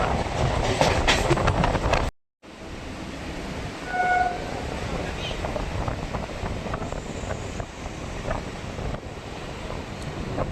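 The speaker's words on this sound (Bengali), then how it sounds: "এই মুহূর্তে আমাদের ট্রেন প্রবেশ করছে তার প্রথম হল বামুনগাছি" A Bangaon line local train running from Barasat toward Duttapukur rumbles and rattles steadily along the tracks, heard from inside with wind buffeting and clattering wheels, briefly cutting out before the noise resumes.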